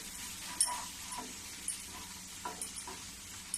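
A spoon stirs turmeric, cumin, chilli and coriander powders together in a bowl, a few quiet scraping taps and clinks spaced irregularly, faint and close with no talk.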